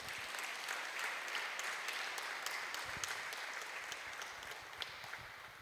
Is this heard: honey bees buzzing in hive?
no